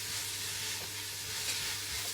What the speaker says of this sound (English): you can see how the onions are being cooked